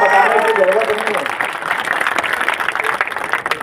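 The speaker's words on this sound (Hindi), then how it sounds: "ये पूरे मंच के लिए जोरदार ताली बजाओ" A crowd at a political rally in Deoghar breaks into applause, a spread-out wash of clapping that follows a brief loud voice and carries on steadily, somewhat distant, to the end.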